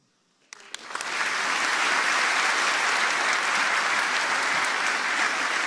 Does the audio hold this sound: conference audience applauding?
yes